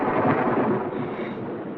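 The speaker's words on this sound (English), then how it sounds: "Oh, you hear that storm outside?" A thunderstorm rumbles outside an empty, snowbound mountain cabin on Panther Pass, making a loud, steady roar of thunder and rain that fills the whole stretch without a break.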